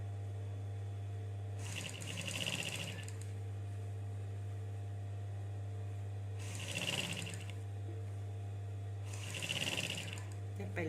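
A sewing machine topstitches over a seam on a shoulder pad in three short bursts of rapid clattering, separated by pauses over a constant low electrical hum.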